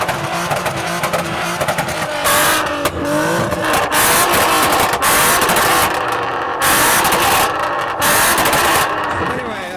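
Modified car engine revving at a car meet, loud repeated throttle blips and sustained high revs with roaring exhaust, close and dominant over crowd noise and faint talk.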